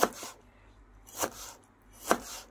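A knife chops tomatoes on a board in a village kitchen: three sharp, close cuts spaced roughly a second apart, with quiet pauses between.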